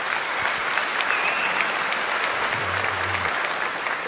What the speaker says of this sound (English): we're entering the part of the program where there's going to be a lot more applause